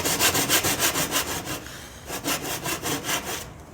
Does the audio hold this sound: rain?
no